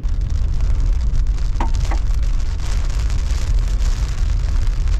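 Steady rain in the Utah desert hisses continuously across the whole stretch, a broad wash of sound with a couple of faint brief knocks.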